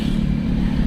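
A motorcycle engine drones steadily on a road, its low hum close and constant throughout with no talk over it.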